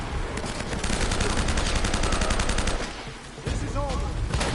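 Dense, rapid gunfire from the Uncharted video game, automatic bursts crackling nearly nonstop, dipping briefly before resuming loud and close, with a voice speaking faintly underneath.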